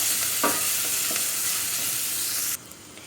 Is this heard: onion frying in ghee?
yes